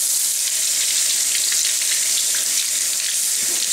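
Tap water running steadily into a kitchen sink during rinsing, a constant close hiss and splash with small variations, no talking.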